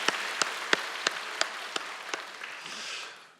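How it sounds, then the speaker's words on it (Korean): A church congregation gives a short round of applause welcoming first-time visitors, with a few distinct slow, rhythmic claps ringing out before fading into a soft wash of scattered clapping that dies away. "다시 한번 박수로 환영하고 축복하겠습니다."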